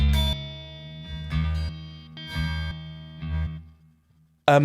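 An electric guitar tuned to drop D through the clean channel of a Revv Generator 120 Mk3 amplifier with light reverb, several ringing chords struck and allowed to sustain, close and clear, ending with a sharp final strum.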